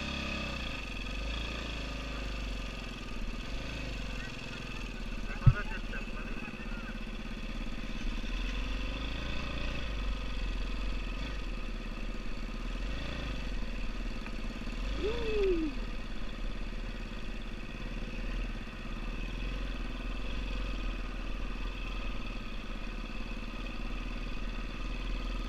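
A motorcycle engine idles steadily at a low, faint level, a constant mechanical hum with one brief sharp click and a small rise partway through, and no voices over it.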